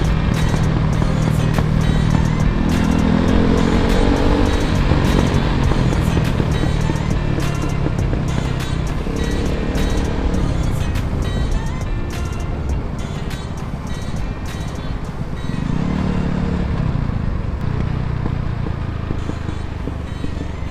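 A Kawasaki Ninja 1000 motorcycle rides twisty roads, its engine droning steadily with rising and falling pitch as it shifts and revs, under constant loud wind roar, heard close for the whole stretch.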